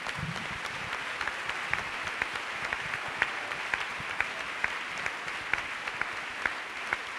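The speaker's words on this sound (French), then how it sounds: "Let's clap for Jesus Christ." A church congregation claps for Jesus Christ during a worship service, a dense, sustained round of applause with rhythmic clapping accents, heard from within the crowd at moderate volume.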